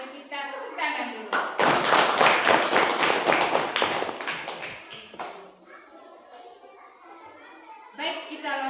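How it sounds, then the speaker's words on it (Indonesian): A primary school class in Indonesia claps together, a burst of rapid, uneven hand claps lasting about four seconds, with children's voices and a teacher talking before and after. "Mari kita tepuk tangan dulu."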